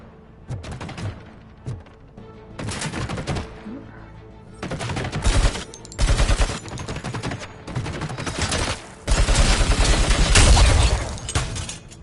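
Gunfire in Robocop: Rogue City comes in repeated loud bursts of rapid automatic shots with heavy impacts, separated by short lulls, and grows denser toward the end.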